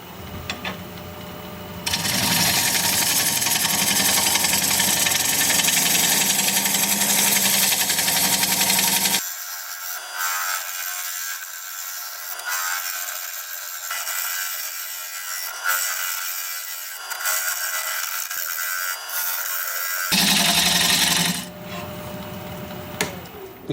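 Olive wood, cracked end grain, spins on a lathe while a dull gouge cuts it, making long stretches of loud, continuous rushing and scraping over motor hum, with tone shifts between passes and no speech.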